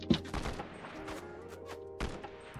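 Gunshots in a video game, a few sharp cracks at irregular intervals with a short burst near the start and another about two seconds later, fairly quiet over a low background hum.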